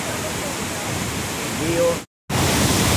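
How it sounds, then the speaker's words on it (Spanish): The Cali river in the historic centre of Santiago de Cali rushes over stones, a loud steady roar of water with a speaking voice faintly beneath and a brief cut near the end. "el río Cali golpeando las piedras. Qué hermoso sonido"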